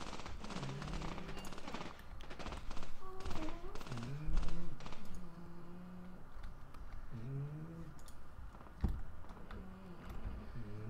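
Gunfire crackles through a Graviteam: Mius Front battle: scattered shots and short bursts mixed with in-game chatter and engine or shell whines, steady throughout at moderate loudness.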